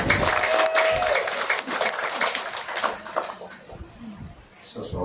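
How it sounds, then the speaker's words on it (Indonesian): Wedding guests clap for the groom during the ceremony, a fairly loud wash of applause that thins out partway through, with a voice and other room noises mixed in. "Beri tepukan sekali lagi bagi pengantin lelaki."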